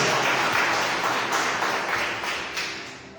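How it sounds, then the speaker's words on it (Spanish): A church congregation applauds during a worship service, with dense, steady clapping that holds near and loud for about three seconds before thinning slightly at the end. "denle ese aplauso al Rey"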